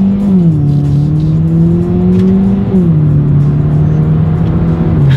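A 2018 Hyundai Elantra GT accelerating hard, its engine note climbing steadily and then dropping sharply at a paddle-shift upshift before rising again, loud and close from inside the car.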